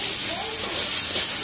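Thai noodles stir-fried in a black wok (kadai), a loud, continuous hissing sizzle without pause, close up.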